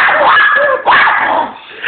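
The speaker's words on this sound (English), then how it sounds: "The maniac dog from hell." A dog gives loud, close, high-pitched snarling barks and whining growls in two sustained bursts, as in an aggressive attack over a phone microphone.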